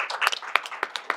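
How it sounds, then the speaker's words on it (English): An audience at a panel discussion gives a brief round of applause, a scattered patter of clapping hands that sounds fairly close and moderately loud, with a faint hint of voices underneath. "Give them a round of applause."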